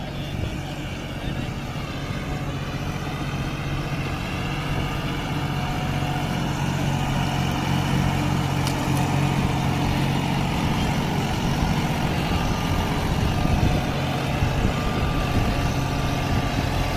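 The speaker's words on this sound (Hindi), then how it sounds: "जॉन डियर 5210 है भाई, 55 HP ट्रैक्टर, 1100 इसके पीछे।" A John Deere 5210 55 HP tractor drones steadily and loudly nearby under heavy load in a pulling challenge against a Farmtrac 60, with a constant low engine hum throughout and voices faintly in the background.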